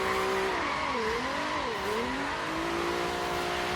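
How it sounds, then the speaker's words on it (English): Nissan 350Z with VQ35DE intake, exhaust and weight reduction in Forza Horizon 3 revs hard and squeals its spinning tires in a festival area, engine pitch swooping up and down, loud and steady throughout with no talk. "Definitely spinning the tires a little bit more than I had anticipated."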